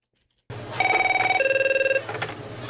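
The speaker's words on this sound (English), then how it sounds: "Those are the exact same goddamn phones" Several telephones begin ringing together after a brief near-silence, with a loud, rapid trilling bell that pulses steadily for over a second and then tails off into a lower, softer ring.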